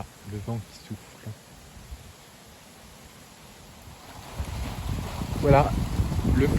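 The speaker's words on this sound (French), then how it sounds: "Voilà, le vent qui souffle." Strong, mild wind ahead of a cold front, with up to 100 km/h gusts on the coast, roars as broadband rumble that swells louder toward the end, with a voice briefly talking at the start and again near the end.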